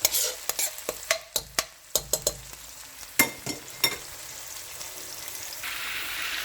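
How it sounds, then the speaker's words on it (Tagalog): Pork browning with plenty of garlic in a frying pan for binagoongang baboy sa gata, with a steady close sizzle broken by repeated sharp scrapes and clinks of a spatula stirring the meat. "lalagay natin yung pork. Medyo ila-light brown lang natin yung pork"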